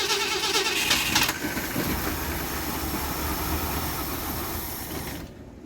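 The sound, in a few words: revived Mercury outboard engine running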